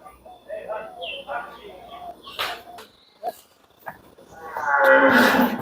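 A cow moos on a farm as it is readied for transport to a buyer's home, several drawn-out lows at mid distance mixed with brief bursts of handling noise, ending in a louder close rumble.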